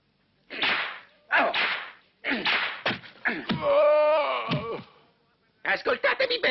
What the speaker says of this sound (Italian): Tutti, frustatelo!